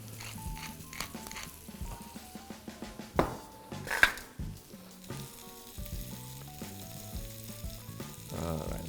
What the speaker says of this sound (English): And you want to hear that sizzle right away.